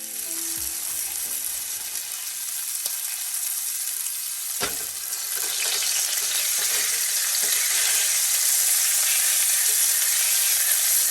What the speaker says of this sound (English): And get it good and hot and sear these things off.